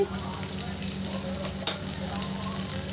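Curry for a potato sambar frying in a pan, giving a continuous close sizzle with light stirring clatter and one sharp clink partway through.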